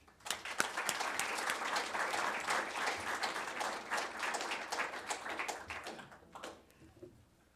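A live audience breaks into steady, dense applause welcoming a guest speaker at a talk, the clapping rising quickly and holding strong before thinning out toward the end.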